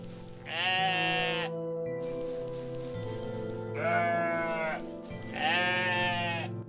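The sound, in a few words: sheep bleating in the video game OneShot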